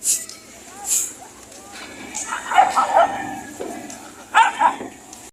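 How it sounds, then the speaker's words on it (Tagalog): Several dogs bark and yip in short bursts at a moderate distance near the sea, with people talking in the background between the barks. "Daming aso guys."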